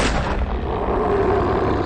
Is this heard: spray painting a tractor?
no